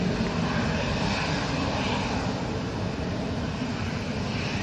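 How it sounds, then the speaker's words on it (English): A Ryanair airliner on approach over Manchester airport gives off a loud, steady broadband roar. It holds evenly throughout with no voices. "Okay, got another Ryanair coming on right in front of us."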